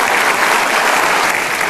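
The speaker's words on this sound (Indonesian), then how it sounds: "Luar biasa, kita kasih tepuk tangan." Loud, sustained applause from a studio audience on a television talk show, a dense unbroken roar of many hands clapping with no voices over it.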